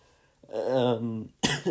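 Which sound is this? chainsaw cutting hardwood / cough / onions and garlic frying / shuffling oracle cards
cough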